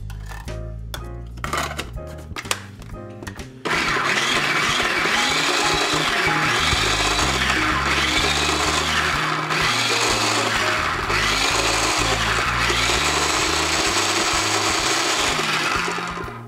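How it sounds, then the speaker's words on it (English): A few knocks and taps, then a blender roars to life and runs loud and steady, its motor pitch wavering as it churns finely diced tomatoes into a puree. "we're going to puree them with this blender"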